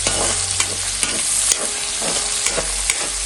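Pork fry being sautéed with curry leaves in a pan, with a steady loud sizzle and regular scraping strokes of a spoon stirring through the mixture.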